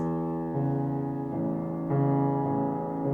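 A soft piano bass line in quick, even sextuplet groups from Rachmaninoff's Prelude Op. 32 No. 13 that shift pitch every half second or so, calm and quiet with no voices.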